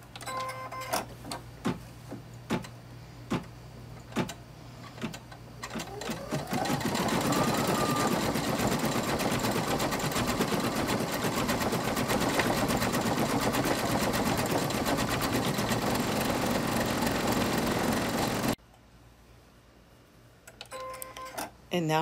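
Close and loud, an embroidery sewing machine stitches white stars on white fabric with a rapid, steady mechanical whir for about twelve seconds. It is preceded by clicking and tapping, and it stops abruptly before a quiet tail of small clicks.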